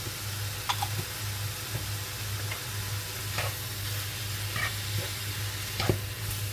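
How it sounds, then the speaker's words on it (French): Meat seasoned with pepper, turmeric and parsley fries and browns in a pan, a steady loud sizzle broken by a few light scraping and ticking clicks from stirring. "On laisse bien cuire tout ça tranquillement. On laisse bien dorer la viande."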